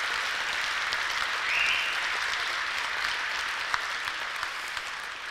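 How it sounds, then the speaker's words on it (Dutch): Audience applause for the children's council and the scout cubs at a New Year speech by the mayor, sustained dense clapping from a large crowd, even and moderately loud from start to finish. "Dus geef ze allemaal een daverend applaus."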